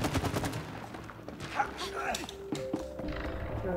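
Gunshots ring out in the video game It Takes Two, quick bursts of sharp reports and mechanical clicks and creaks, fairly faint, with game effects around them.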